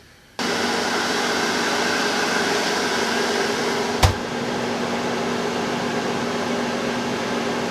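A food dehydrator drying extracted vanilla beans kicks on with a steady fan hum and airy whir, close and constant, with one brief click partway through.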